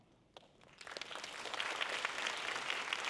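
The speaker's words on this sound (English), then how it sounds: "Please give them your applause." Audience applause at a university English department graduation performance, starting faint and swelling after a moment into steady, full clapping from a large crowd in a hall.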